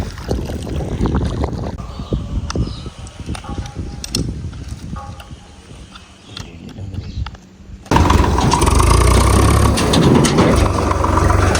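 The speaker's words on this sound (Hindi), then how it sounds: "हो गई मोटर चल, एक वो चल रही, एक ये चल रही।" Water pump motors run on a farm, making a loud mechanical drone with clanks and rattles that drops lower for a while, then jumps to a dense, steady roar near the end. No one speaks.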